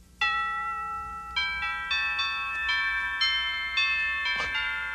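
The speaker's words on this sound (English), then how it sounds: "A doorbell." A melodic chime rings out in clear repeated strikes, several bell-like notes overlapping and sustaining in a quiet room, like a doorbell sounding a tune.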